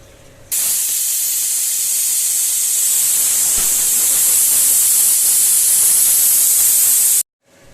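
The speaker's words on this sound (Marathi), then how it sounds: "2 शिट्ट्या झाल्या की आपण काढून घेणार। कुकर आता आपण लावलेलं आहे।" A pressure cooker on the stove cooking khichdi lets out a loud, continuous hiss of steam that starts abruptly, holds steady for several seconds and cuts off sharply, with no voices.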